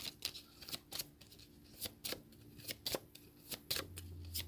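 Flesh and Blood trading cards being shuffled by hand in a series of quick, crisp riffles and snaps, close and fairly quiet, with no talking over them.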